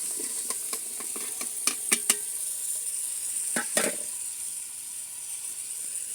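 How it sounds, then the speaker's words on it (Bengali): Cauliflower curry is sautéed in a pan over a clay stove, giving a steady soft sizzle with scattered light scraping clicks from stirring, fairly faint and without talk. "এরপর আমি এখন এখানে ফুলকপিগুলো দিয়ে একটু কষিয়ে নেব।"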